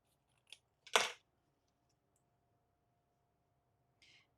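Scissors trim paper for a handmade card in one or two quick snips, a sharp crisp cut standing out between faint clicks in a quiet room.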